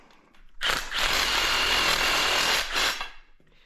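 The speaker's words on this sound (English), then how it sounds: "I'll show you the reamer in action so you can see what that looks like after cutting" A power reamer grinds the burrs out of a freshly cut end of EMT conduit for a garage electrical install, giving one loud, steady, high-pitched whirring burst of about two seconds that rises sharply and then cuts off.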